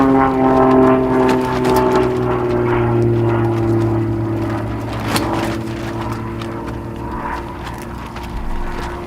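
Propeller aerobatic plane flying a hammerhead figure at an aerobatic competition, a droning engine tone whose pitch slowly sags and shifts as the aircraft climbs and turns, fairly close and loud, fading slightly toward the end.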